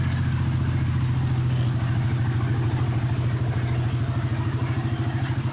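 A stock motorcycle with about 55,000 km on the odometer and a weak battery idles steadily, its loud, close engine putting out an even rapid chugging throb with no pause.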